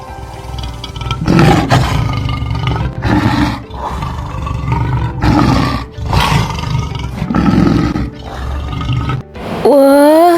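A lion, the king of the jungle, roars loudly in repeated deep bursts separated by short pauses, ending with a rising growl, with no talk over it.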